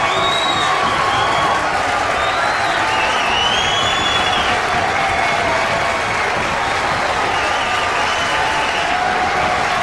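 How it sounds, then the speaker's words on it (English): A hot wrestling arena crowd in WWE 2K roars and cheers continuously and loudly, a dense wall of applause and shouting with scattered whoops rising above it throughout. "The crowd is hot."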